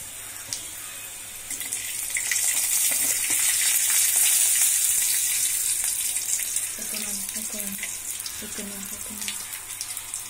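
Ginger and garlic sauté in a pan, giving a moderate, steady sizzle that swells and then eases, with faint clinks and a few brief murmurs of background voice.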